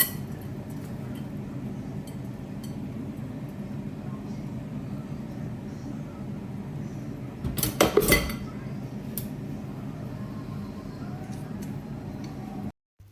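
Dishes, pots and pans are gathered up after cooking in a home kitchen. A steady low hum runs throughout, broken by one short burst of close, loud clattering metal and crockery near the middle.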